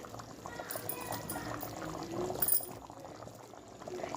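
Fish curry bubbles in a pot after the stove is turned off, a soft, steady simmering burble with faint wet pops. It is quiet and close, with no talking.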